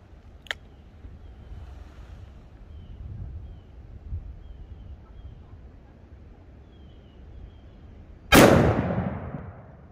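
A single loud, sharp gunshot from a .500 Magnum Smith & Wesson revolver firing a 500 grain Hornady XTP load rings out near the end, with a small click earlier and low background rumble.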